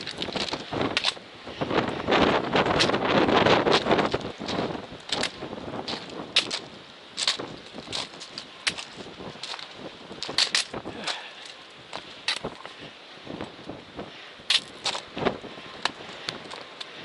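Strong wind buffets the microphone on the Mount Washington summit in the Presidential Range, roaring in gusts with a loud surge early on, mixed with footsteps and handling noise; a voice speaks briefly.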